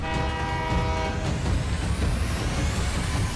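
A cartoon train rolls along the track with a loud, steady rail rumble, and its horn blares in sustained tones at the start before fading into continuous clatter. No voices are heard.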